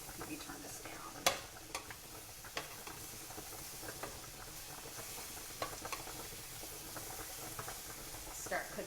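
Tofu fries in a pan with a continuous soft sizzle and hiss, and occasional sharper pops and scraping stirs rise above it, fairly quiet and steady throughout.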